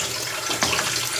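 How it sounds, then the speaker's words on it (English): Water runs steadily from a tap, a close, continuous splashing hiss for the whole moment with a slight surge partway through, and no voices. "Adding a little bit of water."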